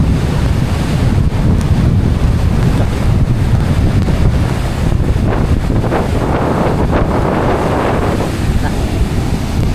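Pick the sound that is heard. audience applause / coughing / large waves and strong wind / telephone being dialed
large waves and strong wind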